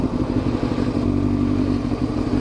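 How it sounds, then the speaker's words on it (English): Motorcycle pulling away in third gear, its engine labouring and rough as the throttle opens, with a steady loud drone and some clattering mechanical noise throughout a short stretch. "my bike sounds super horrible when I start getting gas"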